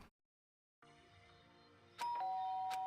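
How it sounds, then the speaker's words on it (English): A doorbell rings in Danganronpa 2, a clear two-tone ding-dong chime sounding over quiet game background music after a brief silence, with no speech. "Ding dong."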